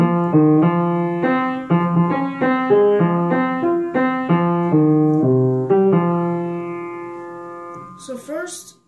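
A short electronic-sounding melody is played on an instrument as a string of quick, bright notes in a bouncy rhythm. It sounds near and clear with no talking, and a brief unrelated noise follows at the end.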